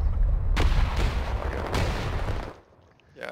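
Rapid gunfire from a battle-royale shooter video game, a burst of loud booming shots in quick succession that cuts off into near silence before another shot starts at the end.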